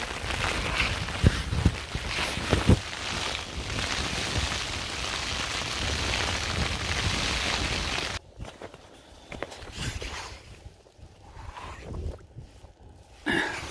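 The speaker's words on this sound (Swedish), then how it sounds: "Och idag är prognosen kraftigt regn." Heavy rain in a mountain storm drums steadily and loudly on a surface for about eight seconds, then drops to quieter, patchier patter with scattered drops and knocks.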